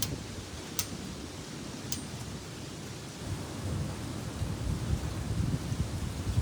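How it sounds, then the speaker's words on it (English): Wind picking up on a front porch in Gassville during a night storm, a steady broadband roar that swells louder in the second half, with a couple of sharp ticks early on. "Wind is picking up in Gassville."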